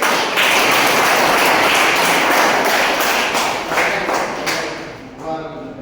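Applause from a seminar audience rises into loud, dense clapping that holds steady and then fades toward the end, with voices mixed in.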